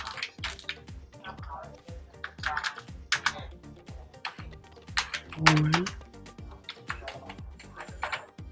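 Fingers tapping out a text prompt on a computer keyboard in quick, uneven bursts of close clicks, with a brief pause partway through.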